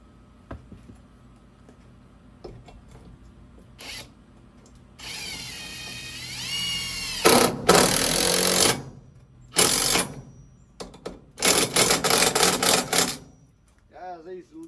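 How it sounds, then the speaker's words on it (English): A battery-operated impact driver drives bolts while a 30-inch fan is assembled, firing in several loud, rattling bursts of a few seconds each, broken by pauses and quieter handling noises. "Battery operated impacts and such. Makes things so fast and easy."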